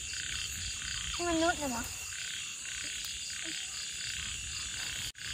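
Frogs croak in a rice field at night under a constant shrill chorus of insects, with one nearer frog giving a short run of warbling calls and a person speaking briefly.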